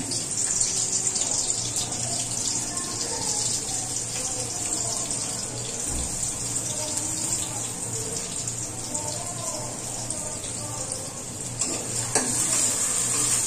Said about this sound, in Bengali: পেঁয়াজ এবং রসুনটাকে আমি একটু হালকা করে ভেজে নিব